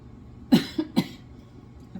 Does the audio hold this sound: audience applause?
no